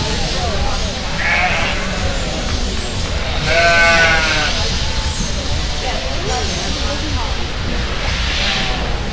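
Sheep bleating repeatedly in the arena at a breeding sheep show, with one louder wavering bleat midway, over constant crowd murmur, wind noise and someone talking over the public address.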